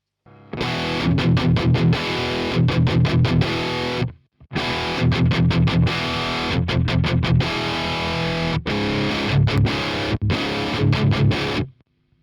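Heavily distorted electric guitar through a Diezel Herbert tube amplifier playing chugging riffs in bursts, loud and close, with brief pauses between phrases and a sharp stop at the end.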